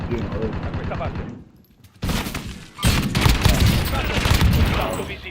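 Rapid bursts of automatic gunfire in a video game crackle densely for several seconds, briefly pausing before resuming in heavier sustained volleys, with players talking over the shooting.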